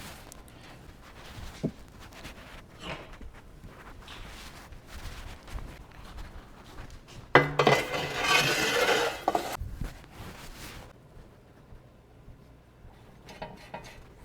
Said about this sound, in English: now we're just going to take this over and place it in the oven, and we'll get the thermometer probe in